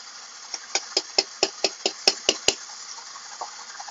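Electric mixer with a whisk attachment beating cream cheese: a steady motor whine with a quick, even run of knocking taps, about four or five per second, close by and moderately loud.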